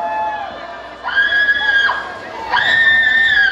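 Women in the audience at a tropical band's live show shout and cheer, a few high voices rising in two bursts over murmuring crowd noise.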